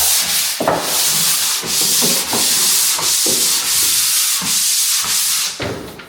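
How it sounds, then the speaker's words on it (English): Drywall joint compound being hand sanded during finishing, with loud, close, rhythmic gritty back-and-forth scraping strokes about one per second and brief gaps between passes. "Normally I just sand this in one fell swoop"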